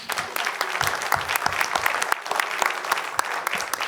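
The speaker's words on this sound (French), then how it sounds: "Et je vous demanderai toutes et tous d'applaudir Isabelle" Audience applauding for Isabelle at the close of an ophthalmology congress on retinal vein occlusions: steady, dense clapping from many hands filling the room without a break.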